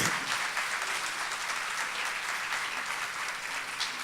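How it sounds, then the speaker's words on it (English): A church congregation applauds those serving in the military during a Sunday service, a steady, dense wash of clapping from many hands that holds at an even level for the whole stretch, with no talking over it. "If you're in the military, would you applaud those in the military right now?"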